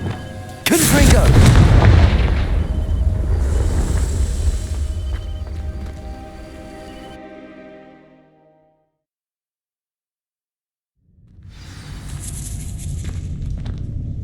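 In Hogwarts Legacy, a Confringo blasting spell detonates with a loud, close boom that rolls into a long rumbling decay, then falls silent before a second fiery burst of crackling noise swells up.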